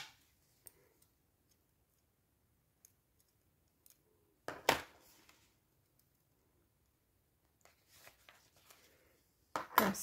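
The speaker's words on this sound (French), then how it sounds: "Ciseaux." Scissors snip paper for a collage in a quiet room, giving a few soft, close cutting and clicking sounds separated by silence.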